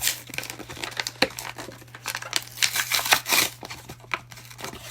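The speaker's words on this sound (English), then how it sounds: "Now I'm gonna open up my mounting tape." Crinkly plastic packaging of mounting tape being opened by hand, a string of close, irregular crackles and tearing rustles with a steady low hum underneath.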